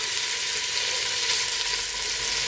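Beef browning in a hot pan for a stew-style dish gives off a loud, steady, dense sizzle with no gaps, close up and free of any talk.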